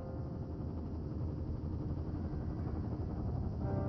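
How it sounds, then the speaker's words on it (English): A helicopter in the video game Firewatch drones steadily with a low, continuous rotor-and-engine hum, fairly close and unchanging throughout, with no talk over it. "There's the helicopter."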